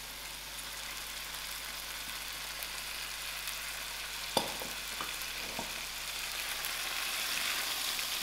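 Prawns frying in a pan of spicy tomato chutney, giving a steady soft sizzle throughout with a few sharp clatters of stirring near the middle.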